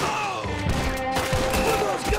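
Gunfire in the Red Dead Redemption 2 video game, a rapid fusillade of shots mixed with game music and effects, loud and dense across the short stretch.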